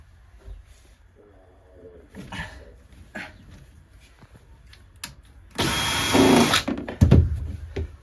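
A power drill whirs loudly for about a second, pulling fasteners out of plywood paneling in a camper van, amid faint rustling and clunks, followed by a heavy thud.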